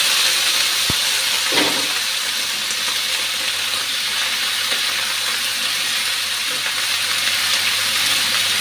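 Boiled unripe jackfruit frying in a pan gives off a steady, even sizzling hiss that lasts throughout, close by, with one faint click near the start.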